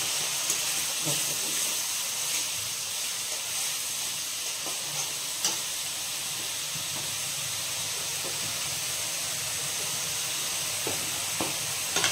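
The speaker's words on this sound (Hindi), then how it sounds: "एबे देखंतु मु प्याज गोटा पकौछि" Onions fry in oil for a prawn curry, producing an even, continuous hiss with faint scattered crackles and clicks at moderate level, with no talk.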